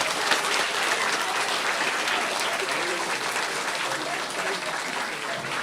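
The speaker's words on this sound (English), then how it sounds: "One final round of applause" A room of children and adults at a storytelling event gives a final round of applause, loud, dense clapping that continues steadily and close by the whole time.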